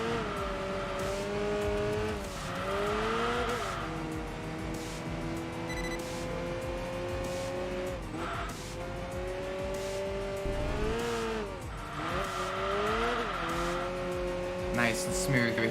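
Engine of an older Alpine A110S in the Enthusia Professional Racing game, a steady rising and falling drone with shifts in pitch and brief tyre squeals, loud and continuous throughout.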